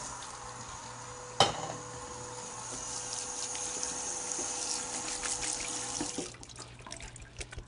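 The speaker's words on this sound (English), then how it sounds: "I'm going to take them to the sink and drain them in a colander, and then rinse them with cold water to stop the potatoes from cooking" Water runs steadily into a sink as boiled potatoes are drained in a colander and rinsed with cold water, a continuous hissing splash with a knock near the start, close by and without talking.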